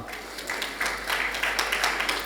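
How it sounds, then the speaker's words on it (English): Conference audience applauding a sponsor at an Africa creative industry event, a steady wash of many hands clapping at moderate distance, swelling slightly partway through with no voices over it. "A round of applause for Golgitos as well."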